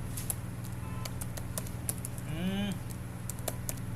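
Fingers tap out a command on a computer keyboard, a quick irregular run of light clicks with a brief low mechanical rumble in the middle, over a faint background hum.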